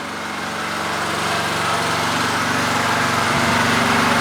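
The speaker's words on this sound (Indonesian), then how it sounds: "Ini menggunakan genset" A MOLLAR MLR 4500 SE petrol generator runs continuously close by, a loud, steady buzzing engine drone with a slight rise in level and no pauses.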